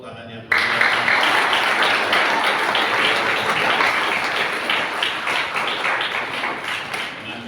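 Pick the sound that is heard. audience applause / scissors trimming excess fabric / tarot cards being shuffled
audience applause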